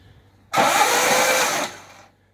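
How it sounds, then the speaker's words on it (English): A Lotus-converted Vauxhall Firenza HPF engine cranks over with spark plugs removed and coil leads disconnected, a steady loud whirring starter drone lasting about a second before winding down. "I'm just going to crank it over. Got the spark plugs out, coil leads disconnected"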